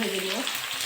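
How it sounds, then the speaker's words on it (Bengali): Pointed gourd (potol) frying in oil, a short burst of dense sizzling hiss, close and fairly loud, with a faint voice-like tone at the start. "পটলগুলো ভেজে নেব।"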